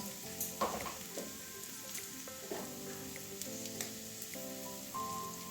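Ground cumin, coriander, Kashmiri red chilli and turmeric stirred in a sizzling frying pan for an egg curry with capsicum and potato: steady hot frying hiss with a few spoon scrapes and knocks, close, no talking.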